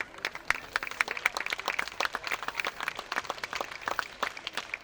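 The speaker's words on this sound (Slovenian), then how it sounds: "Lahko zaploskamo." An audience applauds after a children's folk dance performance, dense steady clapping from many hands throughout, moderately close.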